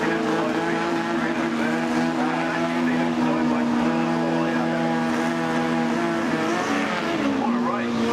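Drag racing cars at Santa Pod during the FIA/FIM European Drag Racing Championships finals, a sustained loud engine roar with strong droning tones that holds steady throughout.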